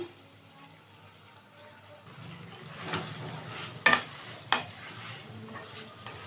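Chicken pieces frying in a pan for chicken pasta with red chili sauce, a low sizzle building as they go in, then two sharp clacks of a spoon or spatula against the pan while stirring, with faint scraping between.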